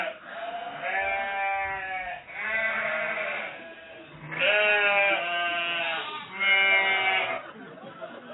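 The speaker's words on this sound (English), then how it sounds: "I am going to play you the sound of some sheep that I have recorded earlier on in the field next to my house." Several sheep in a field beside a house bleat one after another, replayed from a recording, in long wavering calls that overlap and follow closely, loud and near, with no talking over them.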